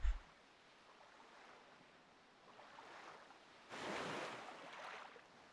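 Boat sailing across ocean waves in the video game The Legend of Zelda: The Wind Waker HD, a soft, steady wash of water and wind that swells louder near the end.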